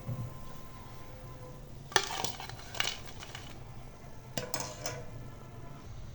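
Freshly fried potato chips lifted out of a pan, with a few light metallic clinks and scrapes of a utensil against the pan over a soft background hiss, fairly quiet and sparse.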